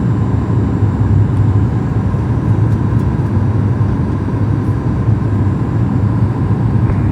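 A WestJet Boeing 737 MAX 8 landing at night in Vancouver produces a loud, steady, unbroken jet roar that fills the whole stretch, with no voices.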